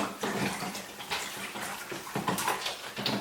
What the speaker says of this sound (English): I'm going to put this in water